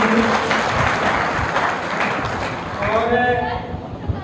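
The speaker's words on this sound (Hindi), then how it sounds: "एक बार और जोरदार तालियां मैडम के लिए" A hall audience applauds loudly and steadily at a public lecture event, dense clapping filling the space throughout, with a voice speaking over it.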